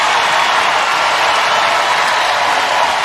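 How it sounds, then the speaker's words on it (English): Basketball crowd at an NCAA women's tournament game applauding, a dense, steady roar of clapping and cheering filling the arena for the whole moment. "Crowd loves it."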